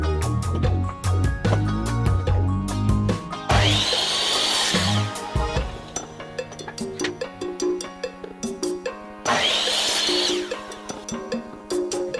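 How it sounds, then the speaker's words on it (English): A compound miter saw cuts through wood in two loud bursts of ripping whine, with motor spin-up and wind-down around each cut amid intermittent clatter. "to make things completely square, we're going to use my compound miter saw."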